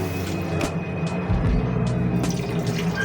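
About two cups of water pour into a pot of pork ribs, a splashing stream that grows louder partway through and runs on steadily, with a few clinks of the pot along the way.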